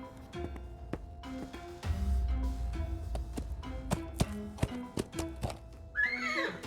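A video-game horse gives a short whinny near the end, after clip-clop hooves and sharp tapping sounds over soft background music.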